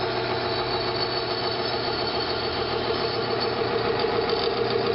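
An engine treated with Militec-1 lubricant runs steadily at a constant idle, a continuous mechanical hum with faint ticking, heard close and alone.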